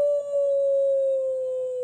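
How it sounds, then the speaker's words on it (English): Wolf howl from a children's sound book, a single sustained electronic-sounding howl held steady and clear, close and moderately loud with no talking. "He's howling. Can you howl?"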